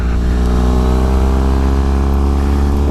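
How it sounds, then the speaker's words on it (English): A custom Triumph T100 cafe racer with an air-cooled engine and full exhaust without cats holds a loud, deep, steady drone at close range. "He's got a full exhaust on this, no cats, and they sound absolutely fantastic."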